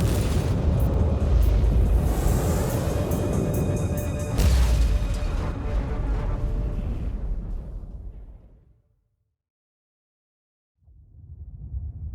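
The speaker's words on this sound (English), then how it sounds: "The turrets are attacking you" Heavy booming blasts from automatic defense turrets firing in the sci-fi action game Warhammer 40,000: Inquisitor - Martyr form a dense, loud rumble for about eight seconds, then fade into silence before more low rumbling returns.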